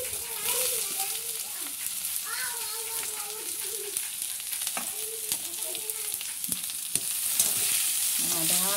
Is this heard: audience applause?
no